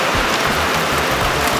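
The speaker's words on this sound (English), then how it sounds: "It's raining its ass off right now." Heavy rain pours steadily on a car being worked on outdoors, a dense, even hiss of drops drumming on surfaces with no pauses.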